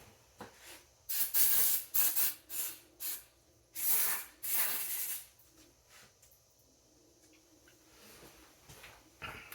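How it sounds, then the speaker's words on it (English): Several short bursts of brake cleaner spray hiss loudly up close on Lexus LS430 brake calipers, a pause between each, then the space falls quiet apart from faint handling noises. "spray some brake clean"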